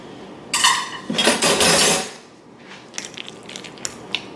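A fork mixing in a bowl that is too small for a whisk, with a few clattering, scraping strokes against the bowl followed by lighter intermittent clinks.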